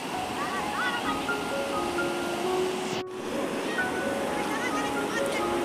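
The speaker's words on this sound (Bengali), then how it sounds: "জলের শব্দ পাচ্ছ তোমরা কতটুকু বুঝতে পারছো আমি জানি না জলের শব্দটা উফ দারুণ দারুণ শব্দ" The Sankosh river in Bhutan rushes steadily nearby as a dense, even roar of flowing water, continuous throughout with a brief dip in the middle, with no voices heard.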